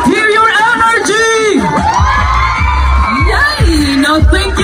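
A live audience at a Bisaya comedy show whoops, yells and cheers loudly in bursts close by, with excited shouting voices rising and falling throughout.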